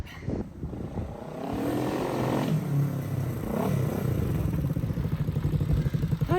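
A vintage Honda CB450 motorcycle engine cranks and catches, then settles into a rough, throbbing idle that grows steadier and louder over several seconds, close by.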